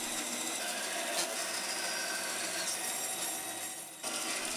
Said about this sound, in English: Using the bandsaw, I cut out the rough shape of the handle.